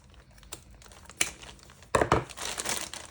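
Scissors cut away the plastic packaging on a 6x8 scrapbook album, giving close, quiet crinkling and snipping in short bursts that grow busier toward the end.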